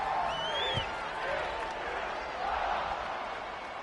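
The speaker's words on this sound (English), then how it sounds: "this crowd is buzzing after that last score" Stadium crowd noise from a college football video game, TCU against the computer: a steady, distant roar and buzz that swells slightly, with a voice talking over it.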